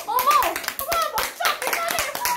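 Students clapping and cheering in a middle school music room, rapid uneven handclaps mixed with excited young voices and shouts, close and lively throughout.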